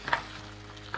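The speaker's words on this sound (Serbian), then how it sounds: "Čujete kako to lepo cvrči." Egg, onion and meat sizzle in a hot pan with a steady crackling hiss, broken by a few short bursts of spattering, heard close up without voices.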